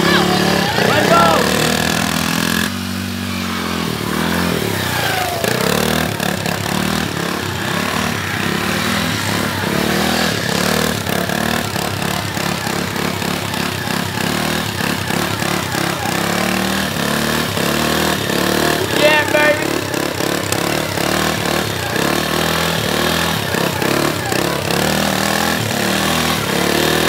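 Can-Am quad ATV engine runs continuously through a backyard lap around a house, revving and varying in pitch as it accelerates and slows, with people talking over it at times.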